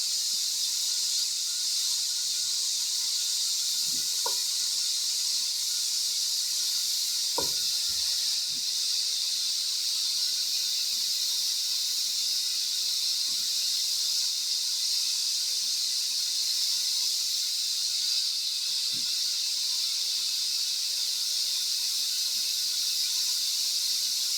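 Onion cooks in a pot of hamburger soup with a steady, even hiss that runs unbroken throughout, marked by a few faint scattered clicks.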